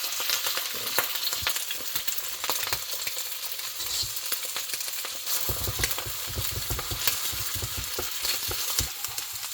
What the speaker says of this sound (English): Grab your egg, and give it a crack, and release that in there